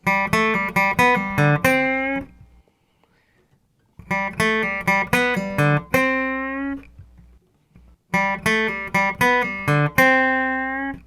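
A clean electric guitar fill played three times: quick plucked notes and a ringing bend, each pass separated by a short silence.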